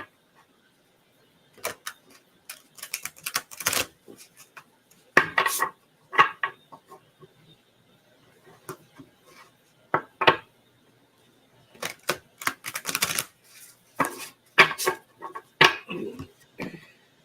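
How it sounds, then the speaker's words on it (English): Oracle cards from an Angels and Auras deck are shuffled and drawn, producing scattered bursts of close, crisp card flicks and taps separated by quiet pauses. "I'm going to pull from the Angels and Auras cards too for you."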